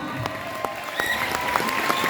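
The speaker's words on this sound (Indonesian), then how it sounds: "Tepuk tangan untuk Kang Beno." Applause from an audience for a speaker at a gathering with Islamic boarding school students in Palasari village, Ciater; a short burst of scattered clapping with a few sharp claps standing out.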